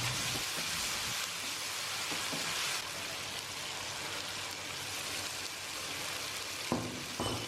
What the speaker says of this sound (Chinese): 这里我们需要开大火快速的给它翻炒一下，让所有的料汁都吸到豆腐里面去